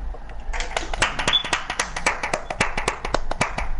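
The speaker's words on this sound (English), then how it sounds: "Who clapping?" Several people clap their hands outdoors during a casual ball game, a quick irregular run of sharp claps close by that keeps going for a few seconds.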